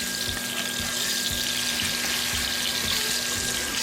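Salmon fillet sizzling steadily in a hot pan just after being flipped, a continuous bright frying hiss with soft crackles and no voices.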